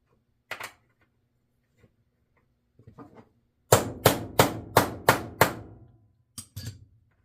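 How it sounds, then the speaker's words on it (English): An old socket struck with a hammer to drive a reel plate onto a stud on an Abu Garcia Ambassadeur Royal Express 3 fishing reel: a few scattered taps, then a fast run of six sharp, close metallic blows, and a final pair of knocks. "you're hammering this down to drive the plate onto the stud"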